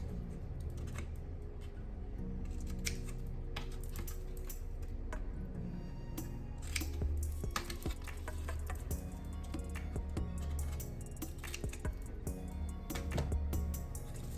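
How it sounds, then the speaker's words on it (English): Scissors snip the corners of a small clay craft piece, giving light, quick, irregular clicks close by over a faint background, with no talking. "you're gonna take your scissors and you're just gonna snip each corner"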